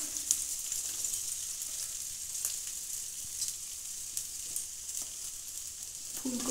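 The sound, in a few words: beetroot added to vegetables frying in a pan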